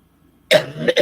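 Silence, then a loud harsh cough close by, followed by two quicker hacking coughs.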